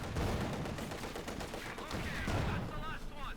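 Dense, continuous battlefield gunfire and explosions from a Company of Heroes 2 match between German OKW and Soviet forces, with infantry gun fire pounding a machine gun position; loud, sustained bursts with no pauses.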